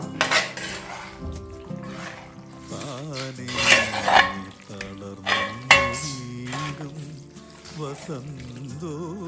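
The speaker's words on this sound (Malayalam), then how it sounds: "ചിക്കൻ ഇടുവാണ് ചായൻ ഇവരെല്ലാം ഒന്നാകുന്നിടം വരെ ഇളക്കണം" Chicken being stirred into a curry-leaf chicken curry in a metal pan, with close clinks and scrapes of a spoon against the pot in uneven bursts, while a voice talks throughout.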